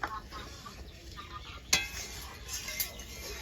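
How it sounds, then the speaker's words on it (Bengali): A spice mixture for a coconut egg curry is stirred in a pan, giving soft scraping and light clatter with one sharper knock of the utensil against the metal partway through, all fairly quiet. "ভালো করে নেড়ে সবটা মিশিয়ে নেব মশলাটা"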